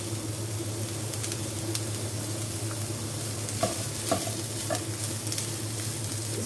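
Shredded cabbage sizzles in a little oil in a pan while it is stirred, a continuous frying hiss with a low hum and a few soft scraping knocks near the end.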